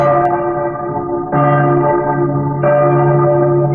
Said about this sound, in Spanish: cuando las campanas tañen